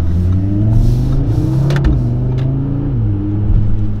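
An Audi RS3 8V with a Stage 1 tune and petrol particulate filter revs loudly up close, its engine rising and falling in a couple of strong blips over a steady rumbling idle.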